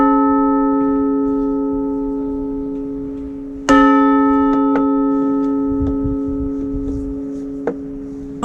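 An old painted bell rung twice, each strike a loud clang with a long, slowly fading ring, the second hit landing mid-decay, followed by a few faint taps.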